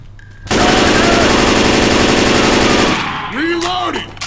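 Sustained automatic gunfire from Left 4 Dead 2 roars loud and continuous for about two and a half seconds, then stops. Brief whooshing and clattering follow.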